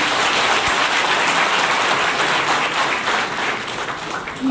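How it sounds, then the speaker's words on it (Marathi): Dense, sustained applause from an audience at a birthday celebration event, a steady wash of clapping throughout with a faint voice near the end. "वाजवा खणखणीत टाळ्या या सगळ्यांसाठी."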